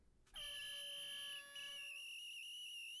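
A shrill, steady whistle with stacked tones blows continuously for nearly three seconds, loud and close, dipping briefly midway before resuming, used as a comic dog-whistle effect.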